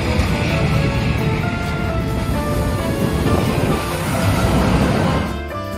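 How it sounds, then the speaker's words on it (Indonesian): A train rumbles past with broadband roar and scattered metallic tones before fading at the end, fitting a steam locomotive on the railway. "bunyi uap mesin lokomotif yang khas itu telah menjadi ikon tersendiri dalam dunia perkereta-apian"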